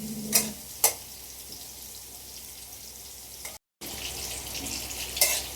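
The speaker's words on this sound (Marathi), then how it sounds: "आता टॅमॅटो टाकून घे. 5 मिनिटं शिजू देऊया आपण." Tomatoes cooking in a frying pan for a Malvani fish curry give a steady soft sizzle close by, broken by a few sharp clatters of a utensil on the pan.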